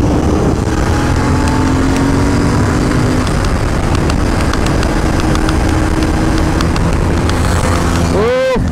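A Royal Enfield Continental GT 650 twin riding on the road, a steady loud engine hum with wind rush throughout and a rising whine near the end, while someone talks over it.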